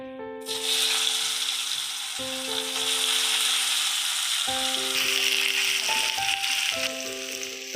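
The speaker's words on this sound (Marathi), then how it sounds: "आता याच्यामध्येच मी फणस फ्राय करून घेणार आहे" Jackfruit pieces fry in the same oil just used for potatoes, giving a steady, fairly loud sizzling hiss that runs throughout under a stepping tonal melody.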